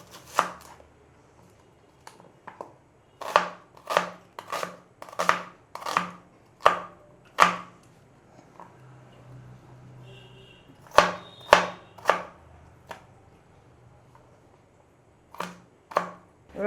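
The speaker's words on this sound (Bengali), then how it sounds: "পেঁয়াজগুলো কুচিয়ে নিই।" A knife chopping onions on a cutting board, crisp rhythmic chops in quick bursts of several strokes separated by short pauses, close and clear with no talk.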